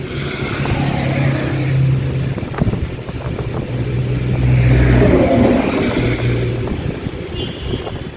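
Vehicles rush past on a high road, a continuous roar of engines and tyres that swells and fades as cars pass nearby, with buffeting wind noise over the microphone.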